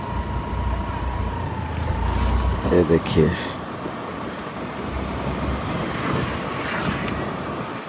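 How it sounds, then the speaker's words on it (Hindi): A monsoon-swollen river near Dehradun rushes in a steady, broad roar of churning water, with wind buffeting the microphone and someone speaking briefly over it. "ये देखिए नदी, देखो कितने उफान पर है।"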